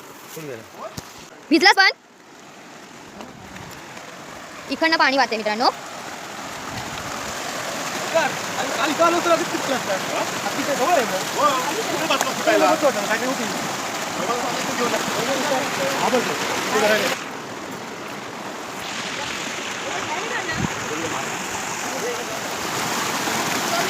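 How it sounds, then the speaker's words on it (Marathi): Steady rushing of flowing river water with stones in it fills the scene near Khed, with a few louder splashes and bursts of voices near the start. "नदीचा आवाज येत आहे जवळून"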